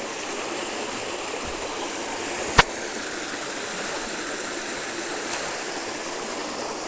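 Rongnay Falls, a waterfall feeding a flowing stream, gives a steady, continuous rushing roar of water, broken once by a single sharp click, with no voices.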